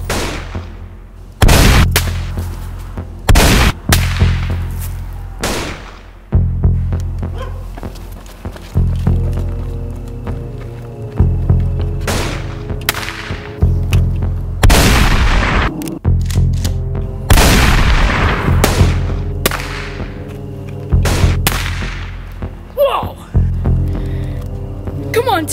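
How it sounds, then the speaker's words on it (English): Rapid bursts of gunfire ring out in a backyard shootout, loud sharp shots clustered in quick volleys with short pauses between, while voices talk and shout over the shooting. "This is a shootout."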